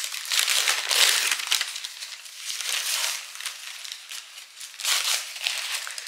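Kraft paper gift wrap being unwrapped from its roll, giving bursts of crisp crinkling and rustling in uneven handfuls, close and fairly soft, with short pauses between the louder crackles.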